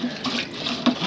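Water fizzing and reacting with a chemical during silver recovery from x-ray film, a soft, steady bubbling wash with a brief louder splash near the end, close but quiet.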